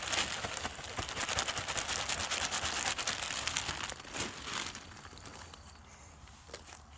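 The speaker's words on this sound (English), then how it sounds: "So we're gonna do some potting mix, crumple them up to keep them as soft as possible." Potting mix is crumpled by hand while a rescued Red Haven peach tree is being repotted, giving a steady close gritty crackling and rustling that thins and fades toward the end.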